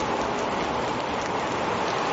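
Heavy storm rain pours down steadily in Victoria, a dense, loud, unbroken hiss of rain falling on surfaces with no voices.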